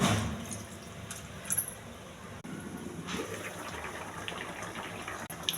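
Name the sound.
pouring water into fish curry to cook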